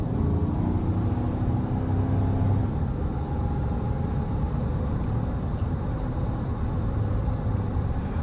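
A 2014 GMC Sierra 1500 SLT with the 5.3 V8 and six-speed automatic pulls hard under throttle, a steady loud engine drone with a rising tone early on, heard from inside the cab.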